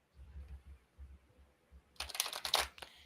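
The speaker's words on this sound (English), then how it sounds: "we're going to shuffle them 3 times" A deck of oracle cards is shuffled in a brief papery riffle near the end, preceded by soft low thumps of the cards being handled in a quiet room.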